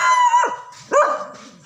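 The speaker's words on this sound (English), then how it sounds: "Little puppies." Small puppies give two sharp, close, high-pitched yelping barks, each trailing into a brief whine, with no talking over them.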